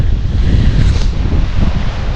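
Strong wind gusting across open water on a cold morning, with choppy waves washing near a beached canoe, a steady loud rush with heavy low rumble and no talk.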